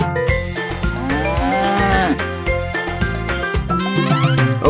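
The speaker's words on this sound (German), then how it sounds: "Mit Mumu hier und Mumu dort, hier ein Mu, dort ein Mu, überall ein Mumu." A cow moos repeatedly within a German-language children's farm song, Old MacDonald, sounding loud and close over a steady music backing with singing.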